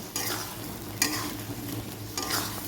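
Turmeric-spiced masala sautéing in hot oil, a steady sizzle with a few scraping stirs of the spoon across the pan, close and moderately loud, no voices.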